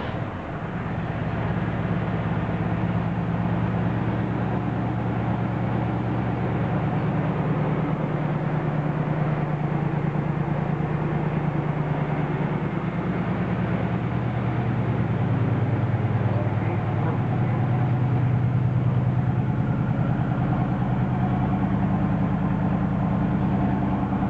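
A dark blue 1968 Camaro engine settles into a steady, loud idle with an even low rumble, running on without revving and with no talking over it.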